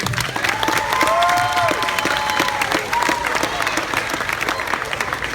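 Audience applause at a high school project graduation hypnotist show, a dense steady clapping that runs throughout, with a voice speaking over it early on.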